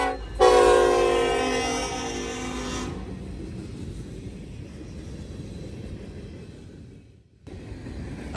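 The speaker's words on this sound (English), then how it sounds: "we see 178 being led by a UP SD70 Ace heading east towards Columbus, Ohio" An eastbound freight train led by a Union Pacific SD70ACe locomotive passes, opening with a loud multi-note horn blast for a few seconds. A steady rolling rumble of cars follows and fades near the end.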